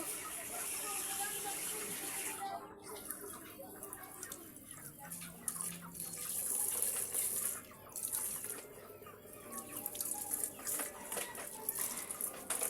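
A tap runs water steadily in a home, a continuous rushing gush that holds for the whole stretch while people talk nearby.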